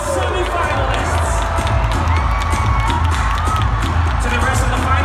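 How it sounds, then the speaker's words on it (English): A crowd at a pageant-style announcement of the top ten semifinalists cheers and claps in a lively, continuous roar with scattered shouts. Excited voices mix into the noise throughout. "Ladies and gents, a round of applause for your top 10 Superbots semifinalists"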